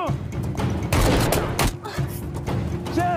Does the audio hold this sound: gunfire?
yes